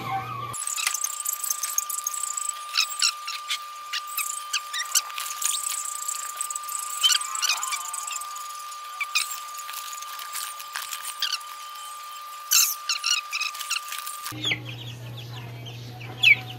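Several baby chicks peep shrilly and continuously, close by, with dense overlapping high-pitched cheeps and brief louder squeaks, under a constant steady tone and no talking.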